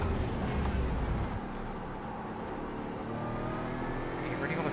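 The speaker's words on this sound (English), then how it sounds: "Car does still sound good, I'll give it credit where it's due." An Aston Martin GT4 race car in iRacing drones and revs near the microphone, the engine note rising and shifting steadily, with someone talking over it.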